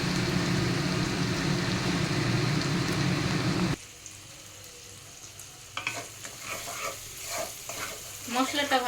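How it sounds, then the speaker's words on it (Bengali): Chilli powder, Kashmiri chilli powder, cumin and coriander powder fry in oil for a Bengali fish kalia. A loud, dense sizzle drops suddenly to a quieter simmer, broken by scraping stirring clatters. "মশলাটা ভাজা হয়ে গেছে আমার, মশলাতে তেলও বেরিয়ে গেছে"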